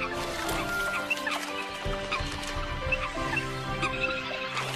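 Eurasian coots calling on a forest pond during courtship and territorial displays, a dense run of harsh, clucking calls overlapping continuously at close range with no voices.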